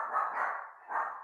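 Dogs barking: two short, faint, muffled barks in quick succession, with a brief lull between them.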